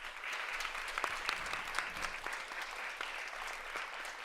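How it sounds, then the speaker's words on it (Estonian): Audience applause at a conference, steady many-handed clapping heard at a moderate distance, fairly even and continuous throughout without voices on top. "Teeme meile kõigile ühe suure aplausi."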